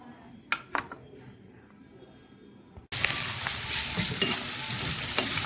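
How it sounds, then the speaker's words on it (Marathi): Onion, curry leaves and coriander go into hot oil with cumin and mustard seeds and fry in a pan, a loud, steady sizzle that starts abruptly after a few quiet clinks and stays dense to the end. "आता कांदा, कढीपत्ता, कोथिंबीर तळत आहे."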